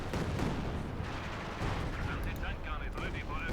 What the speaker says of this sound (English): And we got a B4 barrage going off somewhere.